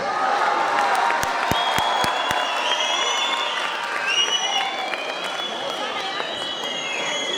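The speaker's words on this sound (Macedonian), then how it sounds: "Ајде, аплауз!" An audience at a World Roma Day celebration concert claps and cheers continuously, a dense crowd wash with a few sharp claps near the start and a voice over the din.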